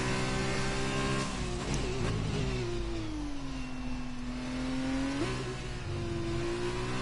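An F2 race car engine in a video game at Silverstone revs steadily at high pitch, easing down through a long gear pull, then jumping up again as it shifts; continuous and fairly close.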